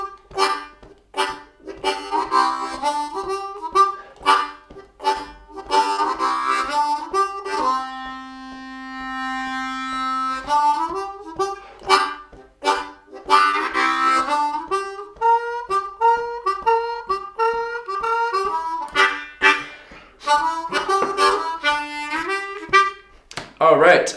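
A blues tune played on a C blues harmonica, bending riffs and repeated licks with a long held note in the middle, close and clear with no talking.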